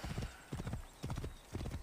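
A horse's hooves clip-clop in a steady trotting rhythm within the Assassin's Creed Origins game world, four quick bursts of hoofbeats close and fairly quiet, with no talk over them.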